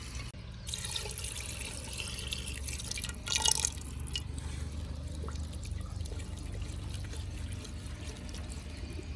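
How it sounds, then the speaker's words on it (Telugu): Water pours and trickles faintly and steadily into a cooking pot of rabbit meat, with a short louder splash partway through, close by in a quiet room. "తగిన నీళ్ళు పోసుకోవాలి ఇట్లా"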